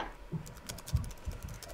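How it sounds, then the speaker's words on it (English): Quick, light keystrokes on a computer keyboard in an irregular burst of taps, close and fairly soft, during a co-op shooter game session. "I'm typing."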